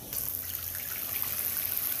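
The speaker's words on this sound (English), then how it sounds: "Mom Tiger turned on the water." Water from a tap gushes steadily into a bathtub at bath time, a continuous, even rush of running water heard alone from start to finish.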